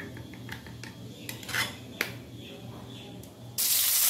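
Spice paste being stirred into yogurt in a bowl with a metal spoon, quiet clinks and scrapes coming in irregular taps, ending in a sudden loud hiss as something hits hot oil.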